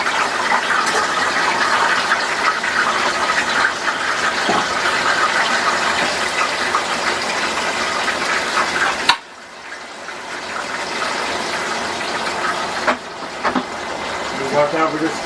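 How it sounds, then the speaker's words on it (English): A kitchen tap runs hard and steady to rinse out a dish, then cuts off and trickles more quietly, with people talking over it. "Watch out, we're just going to rinse this out."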